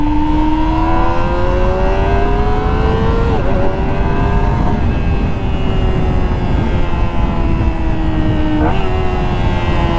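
Kawasaki ZX-25R SE 250cc sport motorcycle screaming at high revs on a race track, a loud, steady, high-pitched engine whine rising through the gears with two brief dips at shifts, no talk.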